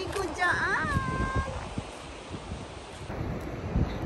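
Wind buffets the microphone over a steady wash of sea waves at Omaezaki Sea beach in Japan, where people surf, with a voice talking briefly near the start.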